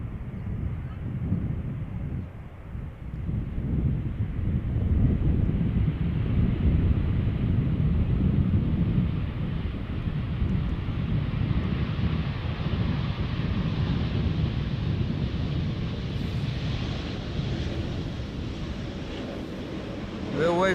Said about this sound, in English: this is KLM flight 1046 arriving from Bristol, Embraer 190